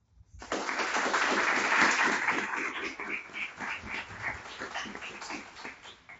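An audience at an expert panel bursts into applause, loud steady clapping from many hands that gradually thins and softens, with no voices over it.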